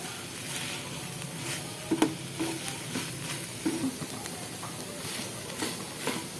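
Dragon chicken being stirred in a pan over a high gas flame after a little sugar is added, a steady soft sizzle broken by a few scraping stirs at moderate level.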